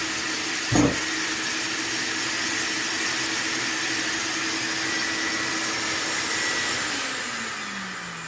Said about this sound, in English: When I engage my sander, listen to my vacuum.